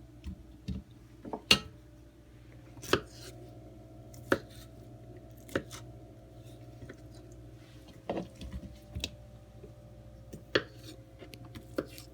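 Knife chopping food into bite-size pieces on a cutting board, likely potatoes for a bacon ranch potato salad: sparse, sharp single chops spaced a second or two apart, close and fairly quiet, with no talking.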